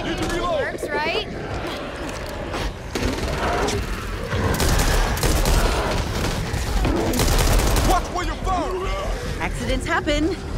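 Rapid gunfire tearing into zombies in the video game Back 4 Blood, repeated bursts and shots throughout amid chaotic combat noise, with voices shouting over the shooting.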